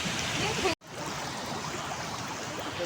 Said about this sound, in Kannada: ಇಲ್ಲೊಂದು ಫಾಲ್ಸ್ ಇದೆ, ಎಷ್ಟು ಚೆನ್ನಾಗಿದೆ ನೋಡಿ.